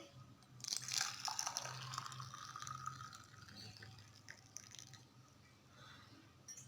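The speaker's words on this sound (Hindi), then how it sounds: "तो आप इसको कप में डाल लेंगे।" Nigella seed water poured into a cup; a steady splashing pour runs for about four seconds with a slowly rising tone as the cup fills, then tapers off into quiet room noise.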